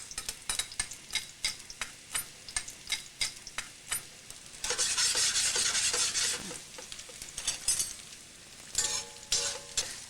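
Garlic sizzles and fries in a pan for a pasta dish, with repeated stirring scrapes in a steady rhythm, then a louder burst of sizzling in the middle, all close and without talk.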